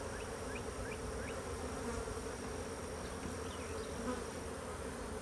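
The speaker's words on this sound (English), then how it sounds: "I'll look over here and see 20 million bees on one frame" Honeybees swarm over hive frames in a dense, even buzz that holds steady and close throughout, with faint higher whines drifting above it.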